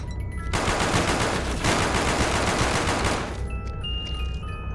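Sustained automatic SMG fire from Call of Duty: Black Ops zombies mode, a loud continuous rattle of rapid shots lasting about three seconds before fading into game ambience.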